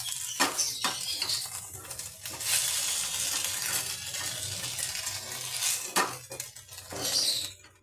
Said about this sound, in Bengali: আমি কড়াটা নামিয়ে দিলাম একটা কুকার বসিয়ে দিলাম